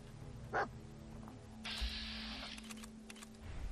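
A dog in the video game Fallout 4 gives a single short bark, followed by a steady mechanical whirring hum, all fairly quiet with no talking.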